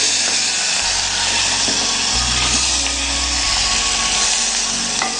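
Marinated prawns frying in a pan for prawn pulao, a dense continuous sizzle at steady volume with a low rumbling hum shifting beneath it and faint stirring clicks.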